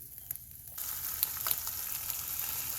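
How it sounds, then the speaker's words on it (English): Canadian bacon sizzles in butter in a hot pan, a soft steady crackle with scattered pops, rising slightly as the frying picks up. "I have it just pan frying up in a little butter"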